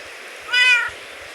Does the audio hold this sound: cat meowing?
yes